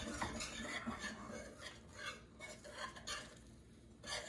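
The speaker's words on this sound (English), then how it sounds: "I'm going to give it a good whisking" Flour is whisked into a hot mixture in a metal pot, giving quiet, busy clinking and scraping strokes in an uneven rhythm, close but faint, with no talking.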